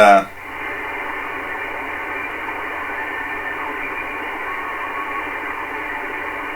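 A weak amateur radio satellite signal on VHF/UHF is received in sideband, buried in a steady hiss of band-limited static after a brief louder burst at the start.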